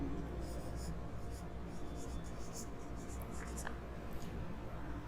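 Chalk or marker writing a physics unit on a classroom board, producing faint scratchy strokes against a steady low room hum, with no voices heard.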